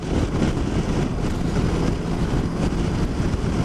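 A 2022 CF Moto 650 MT adventure motorcycle cruising at 70 mph around 4,000 RPM, heard as a steady rush of wind buffeting over a low engine drone, continuous and unbroken throughout.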